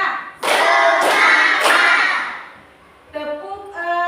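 Indonesian schoolchildren do the "tepuk semangat" rhythmic clapping cheer in a classroom: three sharp, evenly spaced group claps amid loud chanting voices, then a lull before the voices pick up again.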